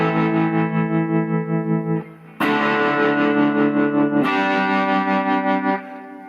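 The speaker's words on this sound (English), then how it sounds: "you can hear that at the beginning of the sound, when I strum the chord, there isn't so much tremolo because it's being saturated" An electric guitar chord strummed through a tremolo pedal with saturated distortion. Two loud, sustained strums are heard alone, the pulsing swell weaker at each attack and building as the chord rings.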